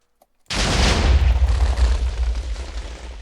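A burst of exploding dogs in modded Minecraft goes off suddenly after a brief silence, a loud booming blast that rolls on as a sustained rumbling crackle.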